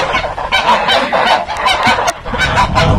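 A flock of geese honks continuously and loudly at close range on a village farmstead in Belogradovka, Timiryazev district, Kazakhstan, where bird flu was killing the flock, many overlapping calls with no talk.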